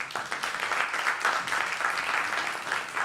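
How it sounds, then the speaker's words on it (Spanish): An audience applauds steadily as a speaker is welcomed to the stage at an official address, a dense wash of clapping held at an even level throughout. "los invito a recibir a Alberto con un gran aplauso"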